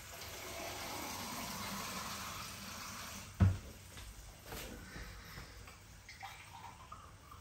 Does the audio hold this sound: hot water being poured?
yes